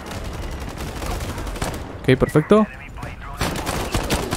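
A secondary weapon fires in the online shooter game Ironsight, a quick cluster of sharp shots in the middle of the clip, with a player speaking briefly afterward.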